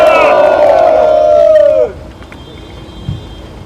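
A crowd at an outdoor political rally in South Korea roars with loud, sustained cheering and shouting voices for nearly two seconds, then falls away abruptly to quiet background murmur with a brief low thump.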